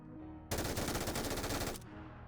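MG3 machine gun firing in PUBG, a single loud, rapid continuous burst lasting about a second and a half, rising out of quieter background music.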